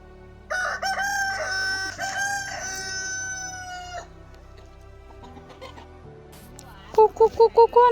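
Chickens at a home: a long, loud crow rings out close by, followed by quieter rustling and then a quick run of five or six sharp, rhythmic clucks.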